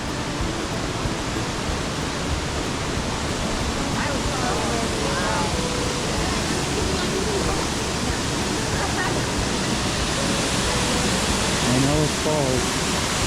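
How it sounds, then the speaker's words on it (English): Steady, loud rushing water fills the whole stretch, a dense unbroken roar of Glen Ellis Falls and its river in New Hampshire, with faint voices now and then beneath it. "read a book, meditate a little bit, the sound of the river."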